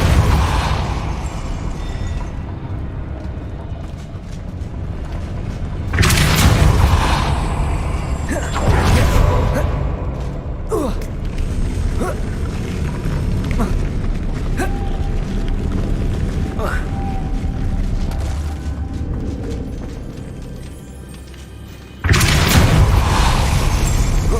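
Depulso spell casts in a wizarding video game, a few loud whooshing bursts and booms standing out over a steady rumbling game soundscape, with someone talking in between.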